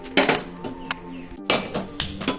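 A metal karai carrying sauce is set down on a lit gas stove, giving several clattering metallic knocks and scrapes in quick, uneven bursts at close range.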